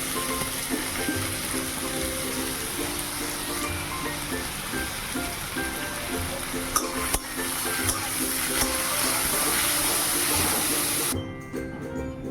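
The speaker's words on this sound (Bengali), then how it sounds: "তারপরে গাজর আর আলু দিয়ে দিলাম, তো লবণ দিয়ে ঢেকে দিলাম, ভাজা ভাজা হচ্ছে" Carrots and potatoes frying with salt and spices in a covered pan, producing a continuous even sizzle throughout with a few faint clicks before it drops away near the end.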